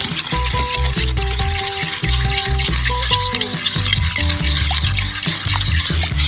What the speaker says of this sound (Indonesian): Aduk terus dengan pengocok sampai campurannya kental.